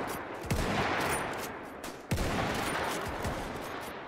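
Gunfire from the game Mount & Blade: Warband comes as two crackling volleys of massed musket shots about a second and a half apart, with scattered follow-up pops, fairly faint in the mix.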